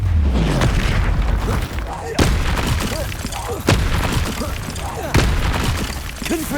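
Bombarda spell explosions from Hogwarts Legacy combat hit as heavy booming blasts, several spaced a second or so apart, loud and close over a busy battle din.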